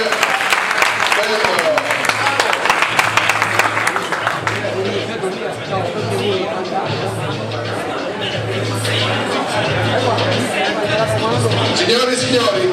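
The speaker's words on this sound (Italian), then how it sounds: "Un applauso per questo match" An audience at an amateur boxing event in San Giovanni Lupatoto, Italy, applauds loudly and steadily at the end of a round, with crowd chatter and an announcer's voice over the clapping.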